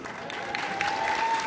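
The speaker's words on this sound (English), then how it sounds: "Dobby got a bigger round of applause than me" A comic con panel audience bursts into applause, a dense wash of clapping that swells over a second and a half with a faint steady tone running underneath.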